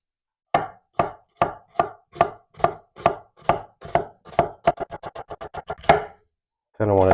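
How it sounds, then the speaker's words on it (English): A knife chops onions into a fine dice on a board, a steady run of about twenty sharp, close strikes that quicken toward the end, followed by a short burst of a voice. "But right now we're going to chop these onions"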